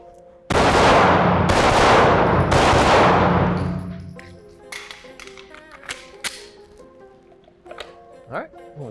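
Pistol shots fired at speed in a shooting drill: three loud, sharp cracks in quick succession with ringing decay, followed by quieter clanks and handling noises.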